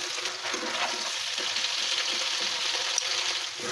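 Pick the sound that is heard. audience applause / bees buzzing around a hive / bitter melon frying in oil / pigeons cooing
bitter melon frying in oil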